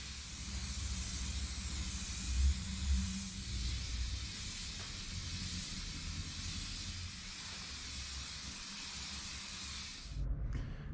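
Flat black spray paint hisses steadily and continuously onto a Toyota MKIV Supra windshield wiper cowl, a close broadband spray with slight pulses and a brief pause near the end.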